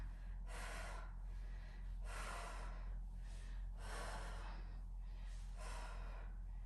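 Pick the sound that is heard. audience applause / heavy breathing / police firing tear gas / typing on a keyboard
heavy breathing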